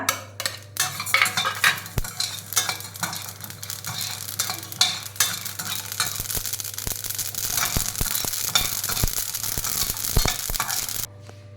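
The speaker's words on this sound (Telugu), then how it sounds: "నేనైతే డ్రై రోస్ట్ చేస్తున్నాను" Sesame seeds and cumin dry roasting in a pan make a continuous crackle and rustle, with frequent spatula scrapes and clicks, close up and without voices, under a low steady hum.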